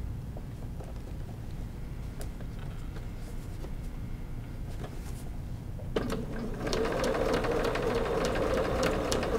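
A sewing machine stitches binding onto a reversible quilted shopper tote, its motor humming softly at first and then running louder and faster in a steady whirring stitch rhythm, with no talking.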